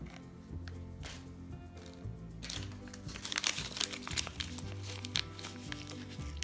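Paper receipt crinkling and crunching while upholstery trim is pushed into place on a deconstructed chair, steady rustling that grows louder and busier midway, close up with no talk.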